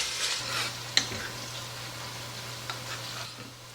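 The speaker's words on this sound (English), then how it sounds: "While the onions are caramelizing, because that takes a little bit of time" Onions caramelize in a home kitchen pan with a steady, soft sizzle and frying crackle, broken by a few sharp clinks of stirring. A low hum runs beneath it.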